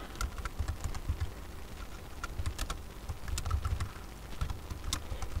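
Computer keyboard being typed on to write an email message, a quick irregular patter of light key clicks running continuously at close range with no talking.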